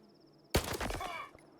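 A single sharp gunshot from a GP37 rifle in a S.T.A.L.K.E.R. video game bursts out suddenly and fades quickly, loud against a quiet background.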